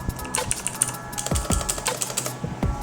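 Clicky keys on a Cosmic Byte CB-GK-16 Firefly mechanical keyboard, pressed in an irregular run of sharp, close taps. There is no talking.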